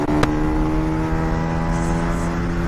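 Bajaj Pulsar 150, a 2010 BS3 motorcycle, holds a steady, loud engine drone with a sharp tonal hum and a brief click near the start, continuous throughout under no talk.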